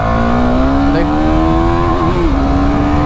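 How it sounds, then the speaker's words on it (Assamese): A KTM Duke 390 motorcycle engine pulls steadily under acceleration in second gear, its pitch rising slowly and holding, loud and close throughout with no voices. "মই এতিয়া গৈ আছোঁ ছেকেণ্ড গিয়াৰত, আৰু বাইকখন এটা পুলটো চাব"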